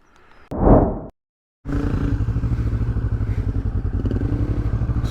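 Kawasaki Vulcan 650 S motorcycle pulling away, a short loud rev, a moment of silence, then a steady close pulsing engine roar as the ride continues.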